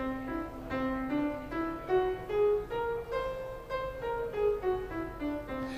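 Piano notes of a whole tone scale climb one by one in an even rhythm and then descend, each note clear and close, with no voices.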